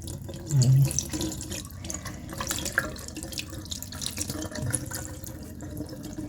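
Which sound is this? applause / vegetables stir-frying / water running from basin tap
water running from basin tap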